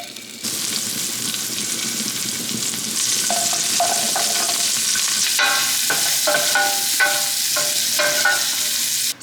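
Asparagus sizzles loudly in a frying pan just used for shrimp, a steady hiss with crackling pops and stirring clatter throughout, no talking.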